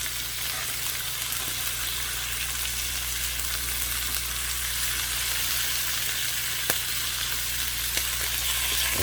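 Deer heart searing in a hot pan, a steady close sizzle and crackle of frying that holds constant throughout with no talking.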